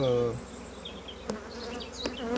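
Honeybees from a colony at a beehive buzz close by in a steady insect drone, marked by brief clicks and a short hum at the start.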